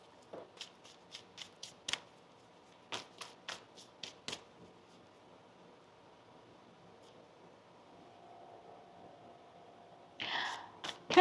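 Tarot cards are shuffled during a reading, a run of quick faint riffling bursts in two clusters, then a quieter stretch and a louder rustle near the end, close and soft with no clear talk.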